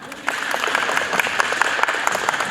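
Crowd at a girls' flag football event clapping in a steady patter of applause, moderately loud and continuous for a few seconds.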